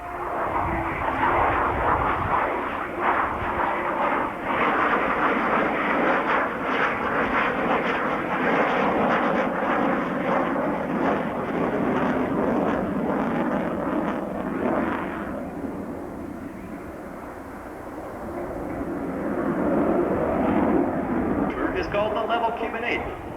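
A fixed-wing airplane drones loudly overhead while flying a level Cuban 8 at a 1994 air show in Dayton, the engine steady then easing and swelling again, with an announcer talking over it throughout.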